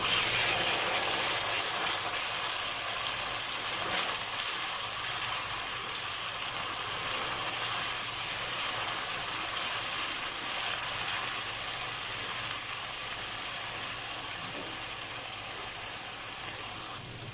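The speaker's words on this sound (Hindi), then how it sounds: "साथ थोड़ा थोड़ा पानी डाल के इसकी भुनाई करते रहेंगे।" Egg and pea curry masala roasting in a pan over a medium gas flame with splashes of water gives a steady, dense sizzle and hiss throughout, close and continuous, with no one speaking.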